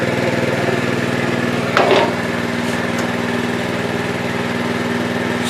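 A four-wheeler engine idles steadily with the choke full on, a continuous low buzzing drone close by with a brief louder rattle partway through.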